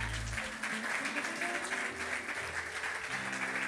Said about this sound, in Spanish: Dale ese aplauso fuerte al Eterno.